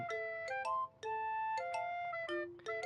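A ringing phone inside the visual novel game Doki Doki Literature Club, its synthetic melodic ringtone playing a bright tonal pattern of short repeating notes, clear and alone.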